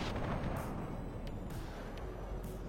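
Heavy gunfire from a 2A4 weapon in a military video game: a dense, continuous rumbling roar of rapid shots and blasts, loud and sustained throughout with no pauses or voices.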